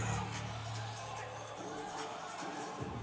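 Spectators at an ECBL basketball game between the NC Capitals and Rowan County Bulls cheer in a steady, dense roar that fills the whole moment without a break, as if heard from the arena.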